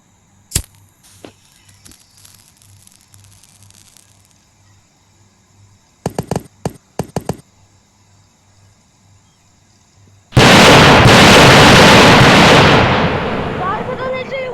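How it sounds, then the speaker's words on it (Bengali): An Air Strike firework goes off: a sharp early crack, then a quick burst of several pops, and finally a loud sustained roaring blast that slowly fades. "ও এটা আছে এয়ার স্ট্রাইক, এটা দিই। মনে হচ্ছে এয়ার স্ট্রাইকের মতো করে করবে। And broom."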